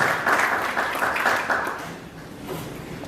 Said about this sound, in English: this deserves a very warm hand clap for our media stakeholders